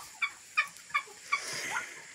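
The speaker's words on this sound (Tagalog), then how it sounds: "meron tayong 13 heads na Muscovy ducks" Muscovy ducks on a small farm give four short, sharp calls in a quick, evenly spaced series, followed by a softer, fainter call, close by with quiet surroundings.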